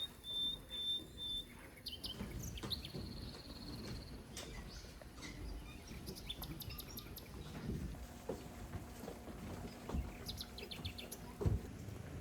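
Birds singing in a quiet Kyoto temple garden, scattered faint chirps and short trills over soft ambient hush, some distant and some a little nearer, with no talk.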